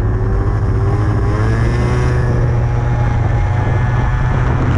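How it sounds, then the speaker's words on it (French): A scooter engine revs under throttle at pull-away with a hesitation, its loud continuous buzzing note rising and wavering, close and unbroken throughout. "On entend bien un trou au démarrage."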